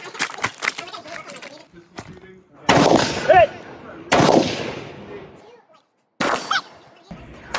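Gunshots fired from inside a pipe at a shooting match, sounding as sharp, loud cracks in separate bursts with short pauses between them, and some speech between the shots.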